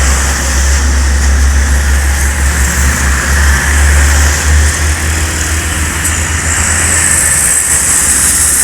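A medium-size bus engine idles nearby in a loud, continuous low drone that holds steady throughout, without clear revving or voices.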